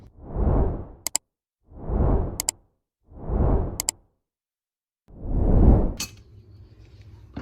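A medium-size cooking pot is handled nearby: four swelling whooshes, each capped by a short metallic clink or clatter, the last trailing into a faint ringing rattle.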